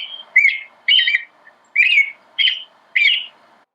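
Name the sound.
American robin song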